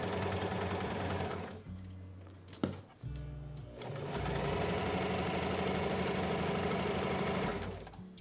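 Sewing machine stitching an apron runs in steady, close, fairly loud bursts, pausing briefly near the middle before resuming its fast mechanical rattle.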